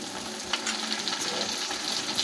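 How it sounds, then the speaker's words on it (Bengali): Ginger garlic paste fries in hot oil with a steady, close sizzle and crackle that runs unbroken for a couple of seconds, with no talking. "আদা রসুনটা আমাদের ভাজা হয়ে গেছে।"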